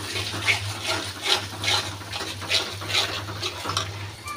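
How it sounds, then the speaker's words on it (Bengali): Water is added to a pan of curry spices with mustard and green chili paste, making a run of splashing, bubbling bursts that swell and fade at a steady rhythm, close and moderately loud over a low hum. "একটু পানি দিয়ে দিলাম।"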